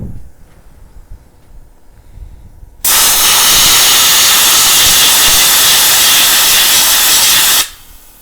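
A CS 17 sandblasting tank with its abrasive valve opened fully lets out a loud, steady roaring hiss of air and grit that starts abruptly after a quiet stretch, holds for about five seconds, then cuts off.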